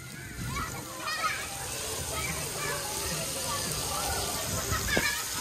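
Water sprays and splashes continuously at the Riley Park splash pad while children shout and chatter nearby, and an adult voice talks over the play.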